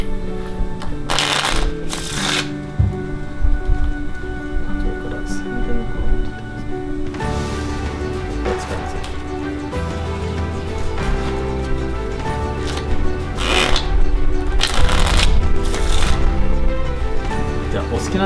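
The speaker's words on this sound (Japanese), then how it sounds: "このカードちょっと混ぜまして" A deck of playing cards being shuffled during a magic trick, with repeated riffling bursts over a steady bed of background music.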